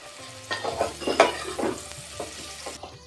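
Finely chopped spring onion greens sauté in a pan, giving a soft sizzle with a few scraping stir strokes and light clatter up close.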